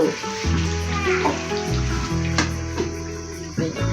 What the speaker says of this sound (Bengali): আমি ঝোল দিয়েছি